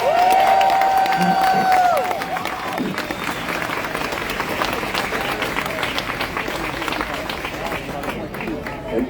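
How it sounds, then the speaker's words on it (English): A rally crowd in Naarm/Melbourne breaks into sustained applause with some cheering, loud and dense at first, then settling to steady clapping that continues throughout. "A big round of applause for Carlos, everybody."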